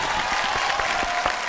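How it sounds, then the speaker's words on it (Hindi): Studio audience applause on a quiz show, a steady wash of many hands clapping throughout, close and fairly loud. "भाइयों जोरदार तालियां"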